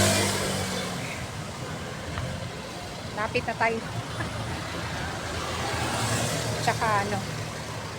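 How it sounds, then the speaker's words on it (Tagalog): Continuous road traffic from passing cars and trucks on a busy street near a market, a steady engine rumble with vehicles swelling past, while a person talks over it. "Ang ingay na mga sasakyan."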